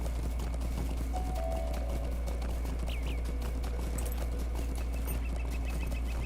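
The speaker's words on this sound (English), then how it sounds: "me and Belle are riding our horses" Horses ridden along in the Lord of the Rings Online game give a steady, rapid clip-clop of hooves at a regular gait, even and continuous over a constant low hum, with occasional faint bird chirps.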